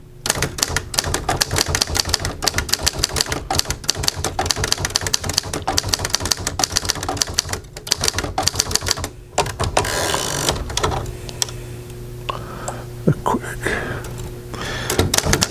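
A 1958 Underwood Golden Touch manual typewriter in pica type, with rapid loud key strikes in bursts, then a carriage return and slower clacks, close up.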